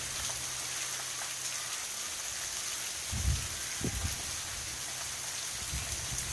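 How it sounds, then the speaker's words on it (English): Summer storm rain falls outside, a steady hiss of drops on surfaces with a few soft low thumps and patters standing out near the middle and end. "So glad it finally is raining."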